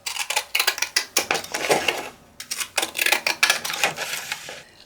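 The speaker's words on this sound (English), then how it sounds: "I'm going to cut just across the bottom" Scissors snip across the bottom of a paper sheet for a handmade journal, a quick run of crisp, close cuts in short bursts with a brief pause midway.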